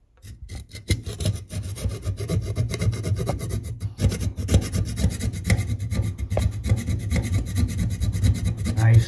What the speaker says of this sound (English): I'm just trying to get this cut to the point where we can pluck it out.